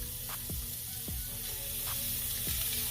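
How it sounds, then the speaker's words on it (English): USDA Prime ground beef browns in a hot skillet with a continuous sizzle, punctuated by several quick scraping strokes as the meat is broken up. "brown our USDA Prime ground beef on the skillet"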